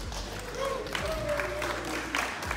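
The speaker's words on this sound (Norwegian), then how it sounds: "Stor applaus!" A crowd applauds second-place winners at a LAN party prize ceremony, with steady clapping and cheering throughout and a voice speaking over it.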